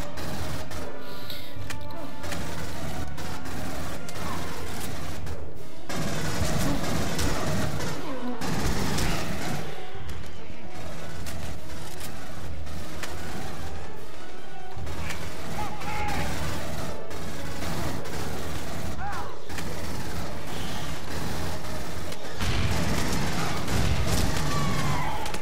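Smart gun bursts and combat chaos in Aliens: Colonial Marines, repeated loud volleys and impacts throughout, with clashing effects and occasional voices mixed in.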